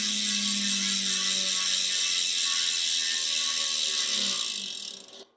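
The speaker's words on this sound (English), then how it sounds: "Let's listen to the hub real quick without the cassette on and without the tire on." A Hunt Carbon 40 gravel bike wheel spins freely without cassette or tire, and its 40-tooth dual-sided ratcheting hub buzzes with rapid, dense clicking that stays loud and steady, then slows and fades as the wheel stops.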